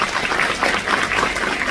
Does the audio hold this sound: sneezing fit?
no